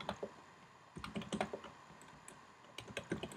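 Commands typed on a computer keyboard while configuring a Cisco switch, heard as quiet bursts of rapid key clicks separated by short pauses.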